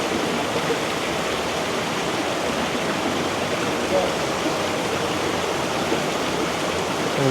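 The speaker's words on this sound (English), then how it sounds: "There's all these little waterfalls." Small decorative waterfalls trickle and splash steadily inside a Polynesian restaurant, a continuous broadband rush of falling water filling the room at moderate volume with no clear break.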